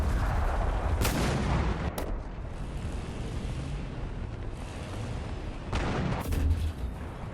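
War Thunder tank combat: shells ricochet off a Maus tank with several sharp metallic impacts and booming shots over a low rumbling engine drone, with a couple of bursts close together.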